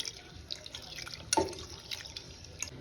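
Toor dal rinsed with water in a pressure cooker pot, a quiet sloshing and dripping with one brighter splash partway through, faint and close.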